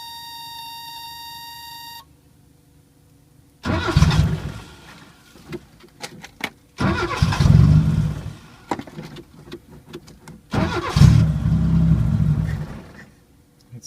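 A 1980 Chevy Luv engine cranks and catches in three loud bursts, each settling into a rough running rumble, with a steady tone audible before the first start.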